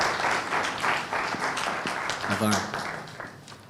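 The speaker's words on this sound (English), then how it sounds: "a round of applause as they take their seats." Audience applause at a tech hub launch event, a rippling wash of clapping from a seated crowd, moderately loud, with a voice talking over it near the end.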